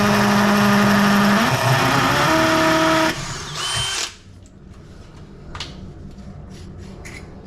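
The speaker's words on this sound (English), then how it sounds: "I get my good masonry bits and I drill a pilot hole all the way through." A hammer drill with a masonry bit boring a pilot hole during a kitchen sink installation, a loud close whining drill that runs steadily, changes pitch, then cuts off, leaving faint handling noises.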